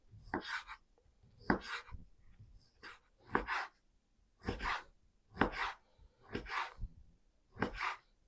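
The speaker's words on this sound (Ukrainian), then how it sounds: "В першу чергу нарізаємо ковбасу соломкою." Knife cutting sausage into thin strips on a board, a series of about nine sharp, distinct chops in an uneven rhythm, close and clear with quiet gaps between strokes.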